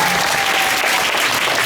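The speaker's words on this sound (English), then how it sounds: "Give yourselves a big hand." Classroom of children applauding together, a dense, loud burst of clapping that holds steady from start to finish.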